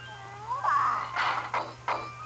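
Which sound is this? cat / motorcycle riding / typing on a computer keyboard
cat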